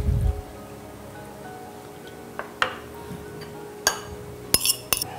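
Ingredients including oil and saffron are stirred together in a bowl for Persian rice cake tahchin, with scattered clinks and taps of a utensil against the bowl and a quiet pause between strokes.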